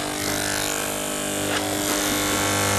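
Andis electric hair clippers trim hair with a steady close-up buzz and a dense mechanical whir that changes little in level throughout.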